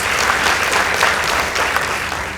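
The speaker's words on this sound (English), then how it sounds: "Let's give them a round of applause." Loud, dense applause from a school debate audience greets the Waa Boys High School debaters, a sustained crowd clapping that carries on evenly without a break.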